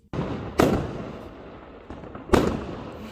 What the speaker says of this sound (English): Then we decided to enjoy the fireworks from our front door.